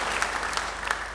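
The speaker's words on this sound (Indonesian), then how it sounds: "Yang percaya beri tepuk tangan yang baik buat dia." A church congregation claps in a short burst of dense, even applause, loud and sustained across the whole moment.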